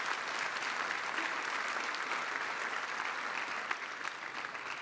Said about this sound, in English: give that a round of applause for sure